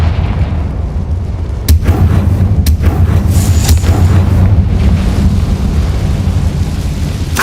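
Confringo fire blast spells in Hogwarts Legacy on PS5, deep rumbling booms with sharp cracking bursts over a continuous loud roaring game soundscape.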